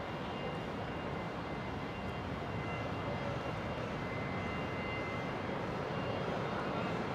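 An Air Canada Boeing 787 Dreamliner takes off with a steady, even jet roar, distant to moderate in level, an unbroken broadband rush lasting the whole stretch.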